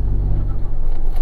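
A first-generation EcoBoost truck fitted with a Lightning-style exhaust gives a short, loud, close rev, a deep rumbling burst that swells toward the end.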